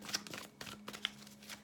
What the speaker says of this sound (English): I feel like I need to shuffle for one more for you.